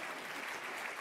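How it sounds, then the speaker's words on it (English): Audience at the Victorian Homelessness Achievement Awards applauding the award nominees, a steady, even wash of clapping from a crowd filling the hall with no voices over it. "Round of applause for all the nominees"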